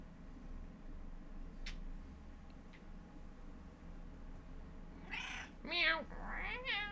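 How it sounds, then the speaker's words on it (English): A cat meows several times in a quick cluster of rising, wavering calls near the end, following a quiet stretch of low background hum with a couple of faint ticks. "He meows constantly."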